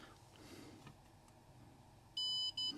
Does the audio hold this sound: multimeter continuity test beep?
yes